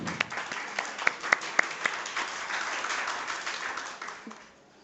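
Audience applause at a physics conference session, a steady wash of clapping with a few sharper individual claps standing out, fading toward the end.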